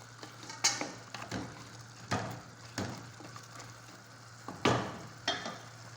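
Fish curry with potatoes and fish heads being sautéed and stirred in a pan, with a series of scraping spoon strokes over a faint, steady sizzle and no talking.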